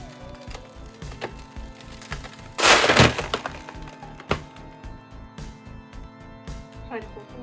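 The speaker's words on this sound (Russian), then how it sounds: "После того, как я лопнула шарик" A balloon pops inside a drying papier-mâché pumpkin head, a single sharp crack in the middle of the clip, with small knocks and rustles of handling around it.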